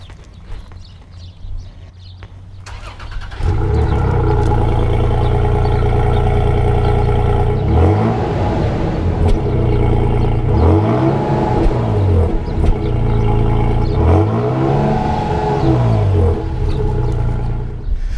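A pickup truck engine, Ford Ranger or Toyota Tacoma, cranks via push-button start and fires up loudly nearby, then settles into a strong idle punctuated by several rising revs.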